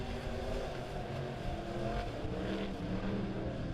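Midwest Modified dirt track race cars roar together at full throttle on a dirt oval, forming a dense, continuous engine drone with no pauses.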